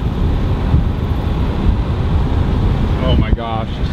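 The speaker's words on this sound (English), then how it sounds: "got the wind coming" Strong wind roars at night during a tornado-warned supercell near Trade Lake, Wisconsin: loud, steady buffeting that blasts the microphone throughout, with a brief whining tone near the end.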